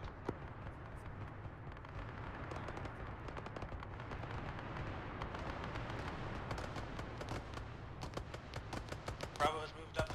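Rapid bursts of gunfire and heavy shots from a firefight at a small forward operating base in the military game Arma 3, with a steady din of shooting throughout and sharper close cracks near the end.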